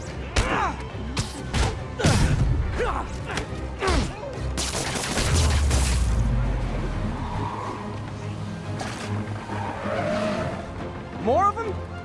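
Gunmen open fire in the video game Marvel's Spider-Man, a rapid series of sharp gunshots in the first half mixed with car and tire sounds, while voices shout over the action.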